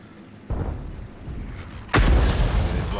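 Two heavy booming shots from French artillery in World of Tanks, the second louder and sharper, each followed by a rumbling tail.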